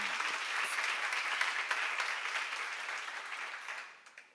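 A church congregation applauds together at a seminar, a dense, sustained wash of clapping from many hands that fades out over the last second.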